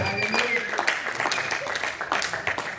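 A church congregation cheers and applauds together in a dense, steady wash of clapping and raised voices that lasts the whole stretch, with a voice speaking over the crowd.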